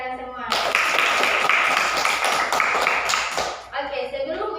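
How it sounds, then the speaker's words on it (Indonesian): A class of students applauds together during a teaching-practice lesson in an Indonesian classroom: about three seconds of dense, steady clapping that starts abruptly and then fades, with a teacher's voice speaking briefly before and after. "Bagus sekali, berikan aplaus untuk kalian semua."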